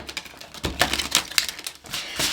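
A deck of tarot cards shuffled by hand, a rapid series of crisp riffling and slapping bursts, close and fairly loud, with no talking.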